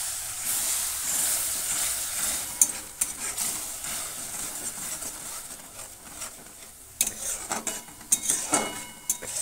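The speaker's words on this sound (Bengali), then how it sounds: "মশলা ধোয়া জলটা একটু দিয়ে দিই।" Spice-washing water poured into masala frying in oil for a Bengali dum aloo, giving a loud continuous sizzle with bursts of spoon scraping and stirring against the pan, no voices.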